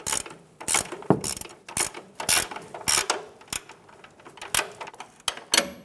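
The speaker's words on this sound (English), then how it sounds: "we're going to use a 21mm wrench and snug down this nut" A 21mm wrench ratchets down a control arm nut on a 2014-2018 Chevrolet Silverado 1500, close, crisp clicking pawl strokes repeating in short steady bursts with brief pauses.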